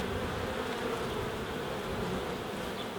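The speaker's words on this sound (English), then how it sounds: "the bees will get off of that in a minute" Dense, steady buzzing of many honey bees swarming close around a hive frame pulled during a mite check, continuous and fairly loud throughout with no talking.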